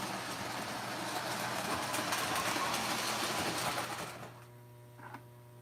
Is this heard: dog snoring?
no